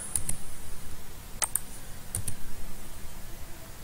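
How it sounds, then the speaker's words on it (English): A computer mouse clicks while drawing a river profile and cross section in software: a few sharp, quiet clicks in quick pairs over a faint background hiss. "then click on select"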